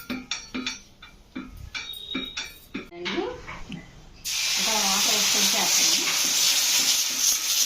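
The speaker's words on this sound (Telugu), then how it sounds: "సో దోశ అయితే వేస్తున్నాను" Dosa batter is poured onto a hot oiled pan in a tiffin-centre kitchen, and a loud, steady sizzle starts abruptly midway and keeps going. Scraping and clinking come before it, with some talk around.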